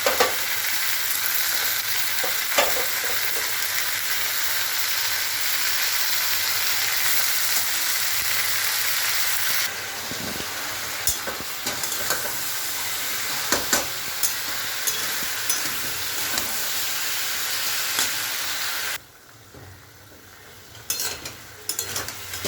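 Continuous close sizzling of spinach frying in a pan with ginger paste and turmeric, with scattered clinks and stirring knocks that thin out toward the end, no voices.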